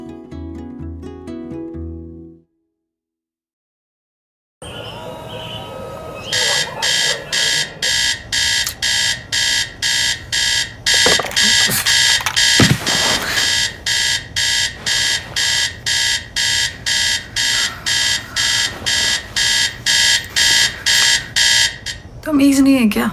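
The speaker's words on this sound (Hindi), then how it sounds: "अलार्म नहीं बंद होता तुझसे?" An alarm clock rings in loud, rapid repeated bursts that go on for many seconds after a brief silence, with some talk and clatter around it.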